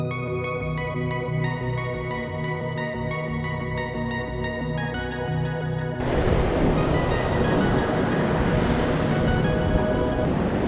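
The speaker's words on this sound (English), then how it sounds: "look at those waves coming in and breaking on shore" Ocean waves roll in and break on the shore at Deerfield Beach, Florida, a broad, loud, steady surf roar that swells into a heavier crash partway through, mixed with some wind.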